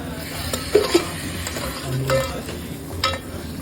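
Crab pieces tumbling into hot masala and being stirred, a steady sizzle of frying with scraping, clattering spatula knocks against the pan and a few sharper clinks, close and fairly loud.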